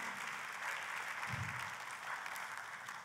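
A church congregation claps together, a sustained, somewhat distant patter of many hands at low level with a brief low thump partway through.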